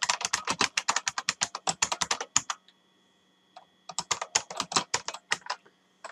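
Rapid clicking keystrokes on a computer keyboard while code is written, close and crisp, in quick bursts broken by a brief pause before the typing resumes.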